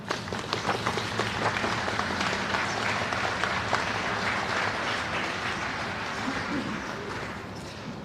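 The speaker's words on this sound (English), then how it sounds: "Let's give her a round of applause." Sustained audience applause at a Memorial Day program in Peoria, Illinois, a dense steady wash of many hands clapping that fills the whole stretch and tapers slightly near the end, with some crowd murmur underneath.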